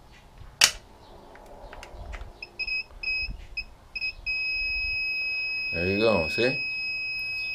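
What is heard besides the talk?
electrical continuity tester beeping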